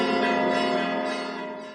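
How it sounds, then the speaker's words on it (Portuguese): Church bells ring out from a tall tower, a dense wash of overlapping tones sustaining loudly and evenly before slowly fading toward the end. "Fora os sinos de igreja, que ecoam do ponto mais alto"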